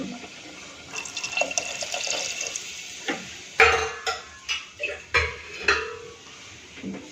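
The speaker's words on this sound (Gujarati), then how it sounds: "આપણે ત્રણેક વાટકી જેટલું આપણે આમાં પાણી એડ કરી દઈશું" About three bowls of water pour steadily into a pot of cracked wheat for Gujarati fada khichdi, followed by a series of sharp clinks and knocks from a utensil against the vessel.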